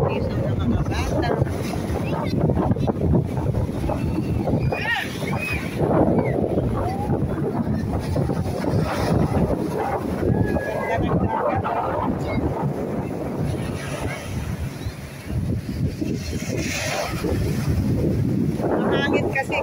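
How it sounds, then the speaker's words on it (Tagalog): Noisy sea on a windy day at a European beach, with constant rushing waves and heavy wind buffeting the microphone throughout, loud and unbroken. "Mahangit kasi kaya maingay yung dagat."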